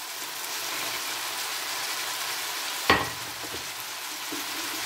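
Frying sizzle of stewed tomatoes and vegetables in a pan, with a sharp clatter and rustle as rice is tipped in near the midpoint, followed by steady sizzling; no talk.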